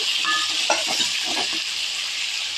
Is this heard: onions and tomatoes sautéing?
yes